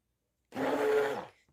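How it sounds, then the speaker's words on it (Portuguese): Hand mixer beating a thick, gel-like batch of homemade soap: one steady whirring burst of about a second, starting abruptly from silence and fading out, close by with no voices. "e vou bater com um mix"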